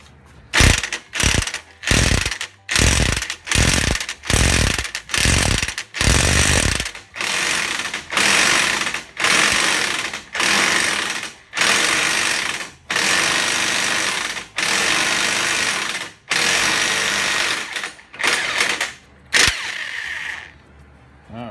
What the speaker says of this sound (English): And we're going to use our impact wrench